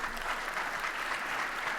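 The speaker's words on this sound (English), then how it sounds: "a round of applause for Ozzy for making it here in one piece" A conference audience in London gives a round of applause, a dense, even wash of clapping at moderate loudness that carries on without a break.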